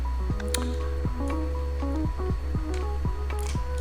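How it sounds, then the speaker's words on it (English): Plants being watered in the life-simulation game Life By You: soft, wet drips and squishy splashes repeat over a sustained tonal background. "I'm going to water these"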